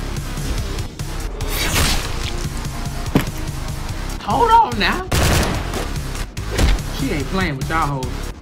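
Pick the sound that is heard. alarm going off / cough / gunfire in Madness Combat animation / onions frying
gunfire in Madness Combat animation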